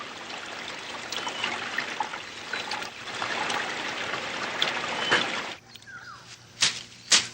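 Clear running water trickles steadily in a shaded, tree-lined spot with fresh air at Dapitan, a continuous close splashing wash, with a brief lull near the end broken by a couple of louder sharp knocks or splashes.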